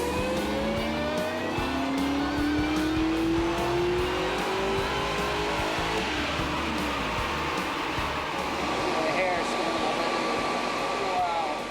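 A Mazda B2500 truck engine converted toward Ford Lightning power revs up on a dyno pull, climbing steadily in pitch from about 2,000 toward 5,000 rpm, loud and continuous with a dense roar throughout and no talk.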